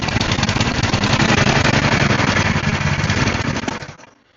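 A revived old engine with its choke being closed runs steadily at a loud, rough, rapid idle, then winds down and cuts out near the end.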